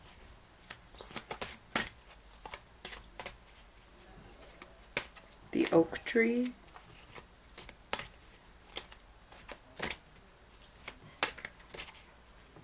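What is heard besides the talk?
shuffling cards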